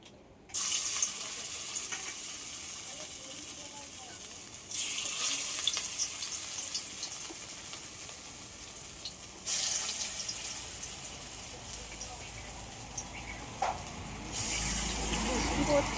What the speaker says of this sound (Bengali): গরম হয়ে গেছে এবার কুমড়ো ফুলের বড়াগুলো ভেজে নেবো